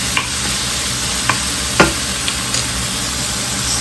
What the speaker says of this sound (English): we are going to just keep cooking until it gets nice and crispy.